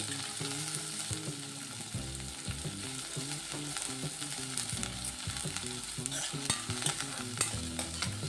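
Oil sizzles steadily in a pan with mustard seeds, onion and green chilli while a spoon scrapes and stirs, with crackling spatters throughout.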